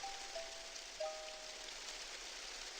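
Steady rainstorm ambience from Animal Crossing: New Leaf, a soft continuous hiss of falling rain with a few faint tonal game chimes drifting over it, quiet and even throughout.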